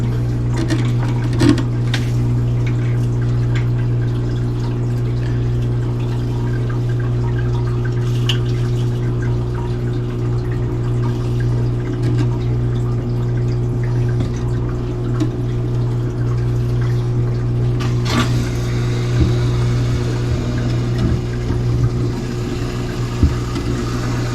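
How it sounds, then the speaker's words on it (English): A Sunbelt intelligent aquarium water changer's pump hum drones on while water trickles and splashes faintly as the tank is drained, with occasional clinks and bumps nearby. "just sucking the water out."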